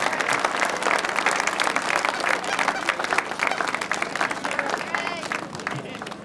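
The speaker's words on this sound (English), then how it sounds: "let's have a big round of applause for three winners on the rostrum" A crowd at a grasstrack racing meeting gives a big round of applause for the three winners on the rostrum, dense sustained clapping that tapers slightly toward the end.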